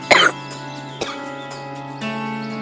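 One sharp, loud cough near the start, followed by a smaller throaty catch and a faint murmur against quiet room noise.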